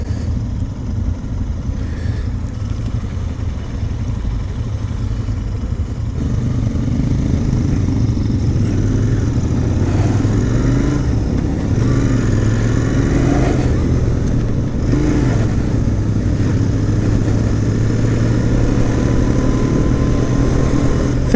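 A Royal Enfield motorcycle rumbles along on a ride, its loud, steady low engine drone rising in pitch and volume after several seconds as it accelerates, with wind noise over it.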